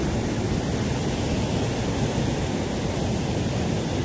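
Large waterfall in the Jemez Wilderness, a dense, steady broadband roar of falling water filling the whole clip without letup.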